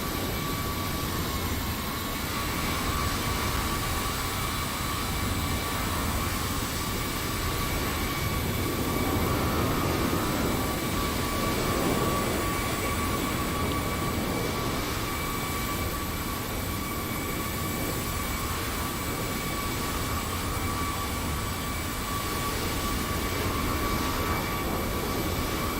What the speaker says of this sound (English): We can watch these takeoffs whilst we wait.